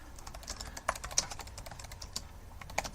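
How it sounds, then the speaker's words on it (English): Quick typing on a computer keyboard, a steady patter of light clicks with a few sharper keystrokes, close and alone over a low room hum. "I'm going to type that real quick."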